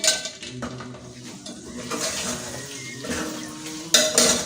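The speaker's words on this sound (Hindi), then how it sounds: "तो लिहाजा ये कि इसमें चमचा चलाते रहें।" A spoon scrapes and clinks against a pot while stirring churro dough, a continuous busy rhythm of metal contact and thick wet movement, close up and with no talking.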